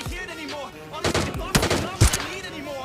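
Gunfire from an AWM sniper rifle in the video game PUBG, with a few sharp, loud reports amid busy game sounds and a low background voice.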